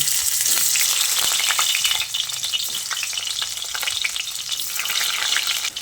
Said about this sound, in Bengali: ওই একইভাবে বাকি আলুগুলোকে ভেজে নেব।